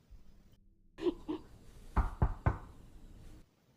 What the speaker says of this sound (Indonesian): Lalu tiba-tiba Naren mengetuk pintu yang membuat mereka panik.